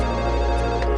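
A telephone ringtone plays as a steady, loud tonal ring, close and clear for about a second, with no voices.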